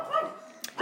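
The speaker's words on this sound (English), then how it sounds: "Dogs are going crazy." Dogs let out a couple of quick, sharp barks and yips, fairly close and loud, with a brief gap between them.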